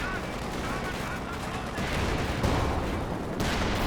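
Gunfire from a Panzer IV tank in Company of Heroes 2 during long-range combat, dense rumbling battle noise with repeated shots under an ongoing mix of game sounds and a voice.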